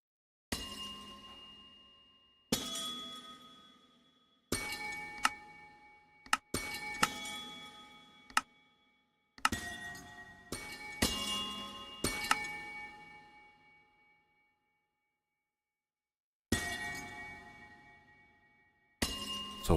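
Amethyst cluster blocks breaking in Minecraft: a series of about a dozen bright, glassy chiming shatters, each ringing out and fading, with irregular gaps between them and no talking.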